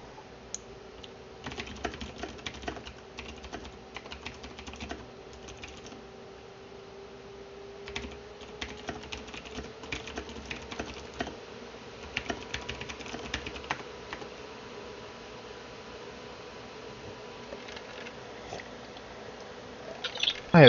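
Steady typing on a computer keyboard, a continuous patter of light key clicks at moderate volume running throughout with a faint background hum.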